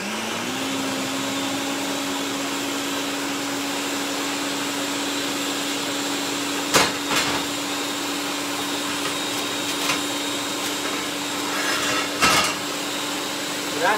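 Blender grinding tinga de pollo sauce ingredients, a steady whirring motor drone that runs unbroken for the whole stretch, close and loud, with a few brief clatters and bumps and no talking over it.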